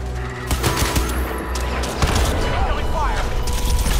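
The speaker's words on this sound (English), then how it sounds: "Incoming fire!" Bursts of gunfire and explosions rattle through a Crysis 2 firefight, with rapid shots and booms stacking up over a dense, loud battle backdrop.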